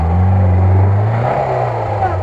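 An off-road vehicle engine revs loudly while backing up on a muddy trail, a strained low drone that rises then shifts pitch, with someone shouting over it.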